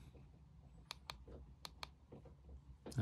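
Password keys pressed on a Motorola MC67 handheld keypad: several sharp, separate clicks in an uneven rhythm, close by and quiet, with no voices.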